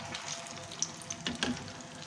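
Bananas fry in oil with brown sugar, giving a close, continuous sizzle. Quick stirring clicks and a faint scrape break through it.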